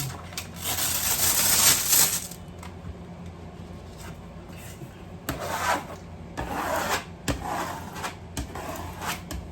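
A hand rubs firmly across a countertop surface during a budget mobile home countertop makeover, giving dry scraping strokes in several bursts with quiet pauses between them, close up and with no one talking.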